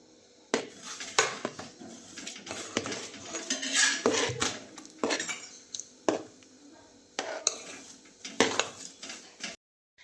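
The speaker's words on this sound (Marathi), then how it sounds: "तर व्यवस्थित मिक्स करून घेते" A spoon works a jaggery, dry ginger and chopped coconut filling around a metal pot, producing repeated scraping clatters and light clinks in uneven bursts, close and fairly quiet.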